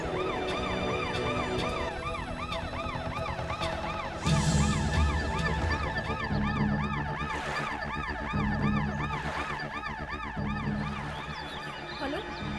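A wailing ambulance siren sweeps up and down steadily and loudly, with a second siren tone and traffic rumble joining partway through, and no voices.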